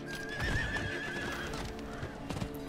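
A horse whinnies loudly and lingers over steady clip-clopping hooves, with a faint hum beneath, in the video game Diablo IV.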